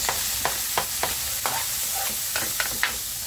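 Onion, tomato and garlic are sautéed quickly in a pan for pakbet, with a steady sizzle under a run of sharp spatula scrapes and stirs, about eight evenly spaced strokes.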